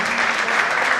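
An audience at a theatre event applauds a lawyer as she is introduced. The clapping is close and loud but lasts only about a second.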